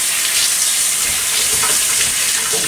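Running tap water splashes steadily as hands are rinsed at a sink during food preparation, a loud, continuous broadband hiss with no talking.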